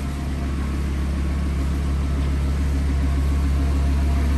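A 2018 Audi R8, one of a limited run of 999, idles steadily up close, its engine a constant low hum with an even, unbroken drone and no voices over it.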